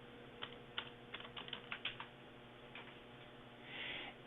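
Light, quick clicks of typing on a computer keyboard come in a short run of irregular keystrokes, faint and close, followed by a brief soft rustle.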